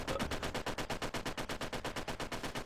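Rapid automatic gunfire in the WW2 Online video game, a steady burst of evenly spaced loud shots firing continuously without pause.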